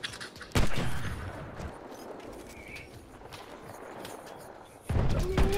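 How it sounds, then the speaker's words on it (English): Gunfire from K bullets aimed at a tank in Battlefield 1, heard as loud sharp reports at the start and again near the end, with a lower, continuous battle rumble in between. "I'm gonna hit that tank with some K bullets."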